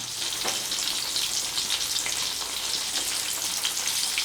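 Beef pieces fry in hot oil with a steady, dense sizzle and crackle that holds evenly throughout, close and fairly loud, with no voices.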